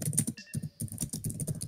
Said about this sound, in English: I'm typing it out to make it dramatic.